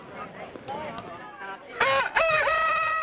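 A rooster crows loudly nearby among show poultry at the Suffolk Show, its long cock-a-doodle-doo rising and falling, after softer clucking and bird calls.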